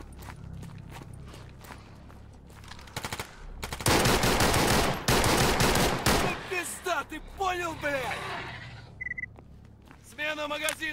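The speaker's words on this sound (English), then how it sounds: "Also heard some rifle fire coming from over there" Bursts of rifle fire in the video game Stalker GAMMA, with scattered distant cracks giving way to a loud, dense volley in the middle, followed by ringing tails while someone talks over it.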